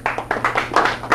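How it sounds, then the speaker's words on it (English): Applause at a magnetism lecture comes as a short, irregular patter of claps, fairly close and moderately loud, with a few listeners clapping for about a second. "a little applause for this one"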